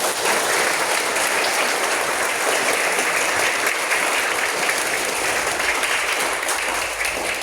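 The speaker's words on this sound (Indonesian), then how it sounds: "Terima kasih, tepuk tangan semuanya." An audience at a martial arts belt-promotion exam ceremony in Pringsewu claps continuously and loudly, a thick, even roar of applause with no talking audible.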